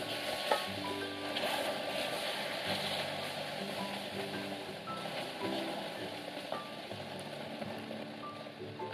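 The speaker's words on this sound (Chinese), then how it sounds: "现在黑糖水温度很高，一定要小心，慢慢的搅拌，一直到黑糖跟水能够融合在一起" Slow stirring of hot brown sugar dissolving in water in a pot, a faint, steady scraping and soft bubbling sizzle that runs evenly throughout with no voices.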